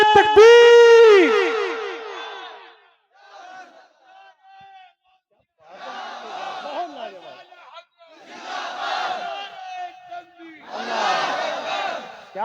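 A crowd at a religious gathering roars back a loud chanted response to a takbir call, the massed voices rising in several surging waves separated by brief quieter gaps.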